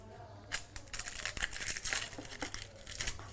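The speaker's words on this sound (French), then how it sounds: "Je commence par éplucher 2 beaux oignons." Two onions are peeled by hand, giving close crisp crackling and tearing of the dry papery skins in quick irregular bursts, quiet and without speech.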